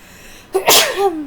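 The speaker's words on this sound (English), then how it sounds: "I did not mean to sneeze." After a quiet moment, one loud sneeze erupts close by, its breathy burst trailing off into a short voiced tail. No speech follows.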